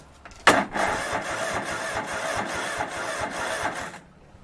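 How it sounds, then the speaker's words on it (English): A Kohler lawn mower engine with a suspected out-of-adjustment valve cranks over with a loud start, then a steady, rapid chugging rhythm lasting about three and a half seconds before cutting off. "From the way it's cranking, I'm going to guess that it's got one valve that's a little too tight or a little too loose"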